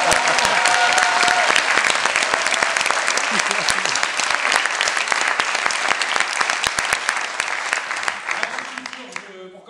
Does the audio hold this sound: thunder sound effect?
no